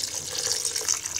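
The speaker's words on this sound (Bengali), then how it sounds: "মাছটা মাখানো হয়ে গেলে এবার পরিমাণ মতো পানি দিয়ে দিব।" Water poured into a pan of kachki fish mixed with spices, giving a steady close splashing hiss that runs unbroken through the short moment with no talk.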